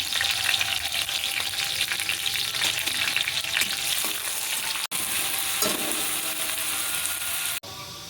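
Cumin seeds fry in hot oil for a lentil-cake curry, a steady loud crackling sizzle with occasional stirring scrapes, running alone and cutting out briefly twice.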